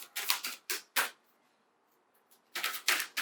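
Tarot oracle cards being shuffled by hand, several crisp riffling bursts close up, a pause of quiet, then two more quick riffles, with no talking.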